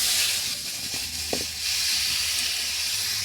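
Tomatoes sizzle in a hot wok in a steady, loud hiss, with a brief clatter partway through as they land in the pan.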